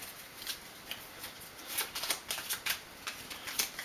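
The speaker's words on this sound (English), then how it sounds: "So let's shuffle up these train cards." Train cards for the board game Attack on Omaha Beach are shuffled by hand: a run of soft, close, papery riffles and flicks in quick uneven bursts, with no talking.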